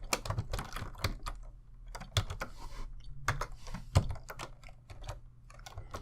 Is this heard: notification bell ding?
no